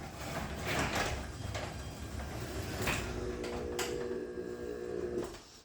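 A LiftMaster 8500W wall-mount garage door opener raising the door: a steady, fairly loud mechanical rumble and drone that runs nearly five seconds, with faint clicks and a humming tone near the end before it stops.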